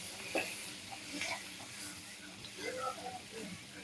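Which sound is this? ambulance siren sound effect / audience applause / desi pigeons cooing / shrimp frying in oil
shrimp frying in oil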